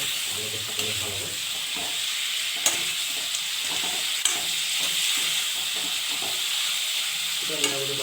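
Potatoes frying with duck meat and spices in a pan, a steady close sizzle broken by scraping stirs and a few sharp utensil knocks.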